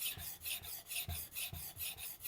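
A wood chisel is sharpened on a Tormek T8 with rhythmic rasping strokes, roughly five back-and-forth scrapes in a little over two seconds, close and steady, with no voices.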